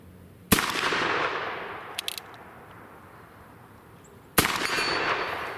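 Two loud, sharp revolver shots from a Ruger Super Blackhawk .44 Magnum fired outdoors with open sights, the blasts about four seconds apart, each followed by a decaying echo, with a faint metallic click between them.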